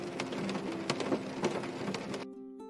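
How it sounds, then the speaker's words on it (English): Steady rainfall patters on a surface with scattered louder drops for over two seconds, then cuts off abruptly near the end, leaving a quiet tonal hum. "When it rains, water droplets fall from the clouds down to the earth."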